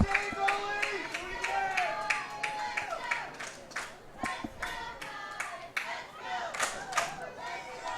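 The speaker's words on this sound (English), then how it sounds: "The crowd's getting into it." Spectators at a boys varsity lacrosse game clap and cheer in a dense, lively burst, with sharp handclaps, whistles and shouts continuing throughout, fairly close and loud.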